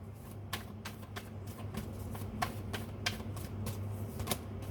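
Tarot cards being drawn and laid down one after another, a series of soft, close, irregular slaps and flicks over a faint low hum.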